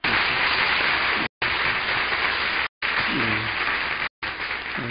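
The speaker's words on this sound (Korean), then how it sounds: "이제 큰 박수로 맞이하겠습니다." Church congregation applauding to welcome a new minister at a Sunday service, loud dense clapping broken by short gaps, with a voice briefly audible partway through.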